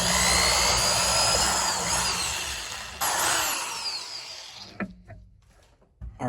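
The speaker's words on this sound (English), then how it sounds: "Next thing we gotta do is drill some pilot holes in the slab" A power drill bores pilot holes into a pine wood slab clamped in a vise with cardboard, whining loudly and steadily for several seconds before winding down and stopping, followed by a few small clunks.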